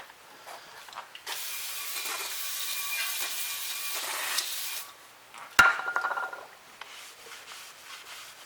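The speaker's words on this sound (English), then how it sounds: "I'm going to spray this side of the rotor down with some brake parts cleaners" Brake parts cleaner hisses steadily from an aerosol can as it is sprayed onto a Ford Ranger brake rotor for several seconds. A sharp metallic clack follows, then softer rubbing and handling noises.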